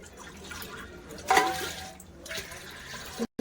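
Water poured into a pressure cooker holding washed chana dal in a home kitchen, a brief splashing pour followed by softer trickling, close and moderately loud with no talk.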